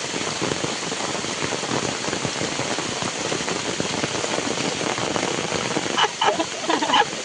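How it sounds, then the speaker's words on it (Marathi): Steady rain pattering on surfaces in rural Konkan, a constant dense hiss with a few louder knocks near the end. "पाऊस आलाय"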